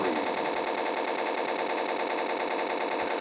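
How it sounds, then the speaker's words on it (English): Sustained automatic machine gun fire in a video game match, a dense, continuous rapid burst of shots running unbroken at an even loudness with no talk. "the machine gun sound keeps on happening"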